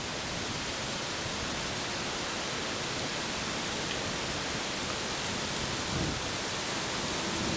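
Breeze blowing on a countryside walk down a sunken lane gives a broad, steady rush of wind noise filling the whole clip, loud and unbroken, with no voices.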